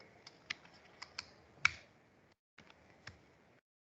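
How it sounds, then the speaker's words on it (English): Computer keyboard keys tapped in short, uneven bursts of crisp clicks, close and fairly quiet, with a brief pause before a few more keystrokes; no talking. "only first record I am typing here"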